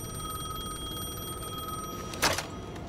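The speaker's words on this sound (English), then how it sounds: "phone was ringing again." Telephone ringing in the video game Alan Wake 2, a single short electronic ring burst near the end over a quiet, humming ambient background.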